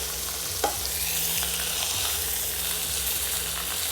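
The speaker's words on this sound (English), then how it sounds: "I'm sealing the outside because I want to start the cooking process and I want to get beautiful caramelization on my roast." A lamb roast sears in a hot pan, giving a steady, close sizzle with crackling spits and occasional stirring or turning sounds, with no talk.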